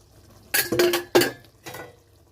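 Lid lifted off a pot of magur fish curry on the stove, giving a few quick metallic clinks and scrapes close by, with a faint sizzle in between.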